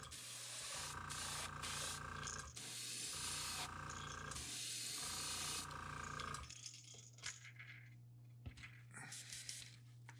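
Airbrush at about 30 PSI spraying orange paint over a white crankbait fishing lure, a steady close hiss in several bursts of two to three seconds with brief pauses, then a softer, more broken spray toward the end.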